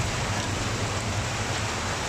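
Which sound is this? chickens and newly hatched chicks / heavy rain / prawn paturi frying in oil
heavy rain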